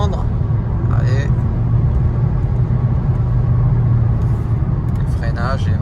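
A front-wheel-drive Mercedes A-Class accelerates with a steady low engine drone and road rumble heard from inside the cabin, someone talking over it.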